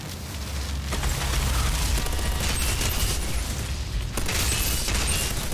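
Fire engulfing the player character in the video game Outriders, a loud, continuous roaring wash with dense crackle, scattered sharp pops and a low rumbling thump underneath, steady throughout with no talking.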